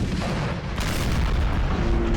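Artillery fire in a Napoleon: Total War battle, deep booming cannon reports rolling over a dense, continuous battlefield roar.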